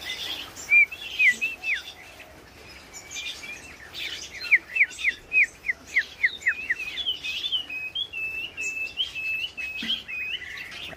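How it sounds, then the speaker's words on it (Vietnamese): A tiểu mi songbird sings a long varied run of bright, close, clear chirps and whistled notes in quick repeated bursts, rising and falling between separate phrases with no talking. "Con này hót rất nhiều rồi."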